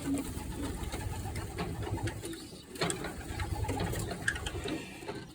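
Young pigeons perched on shelves in a loft coo softly amid rustling and a busy mechanical whirring in the background, with occasional sharper taps and flutters close by.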